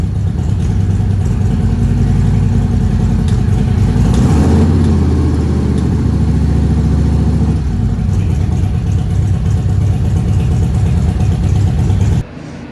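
A car engine idling loudly nearby, then revving and pulling away, its low rumble fading off before an abrupt cut at the end.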